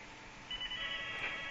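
A faint telephone rings in a room, a thin electronic trill that starts about halfway through and holds steady over low background hiss, with no talking.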